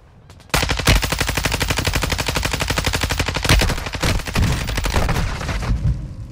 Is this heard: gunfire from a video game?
yes